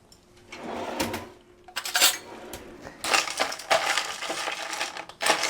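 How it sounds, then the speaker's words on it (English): Ice cubes clatter into a Hugo cocktail glass in several loud, jingling bursts, the cubes clinking against the glass and each other with short pauses between scoops. "Now I'm going to add my ice."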